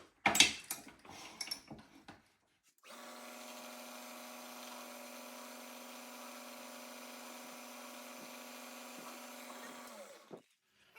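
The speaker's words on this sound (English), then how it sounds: "now I'm going to put in a spotting drill and spot all those prick punch marks and drill some of the holes." A spotting drill runs steadily while spotting prick punch marks and drilling holes in a metal front plate for an engine build. It gives a sustained, even machine whine lasting about seven seconds after a brief burst of clatter, with no talking.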